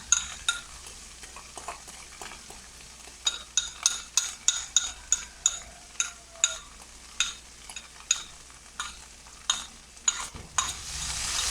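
Mashed tofu stir-fries with garlic in a hot pan, a low sizzle under a steady rhythm of sharp spatula scrapes about twice a second, with a light metallic clink near the end.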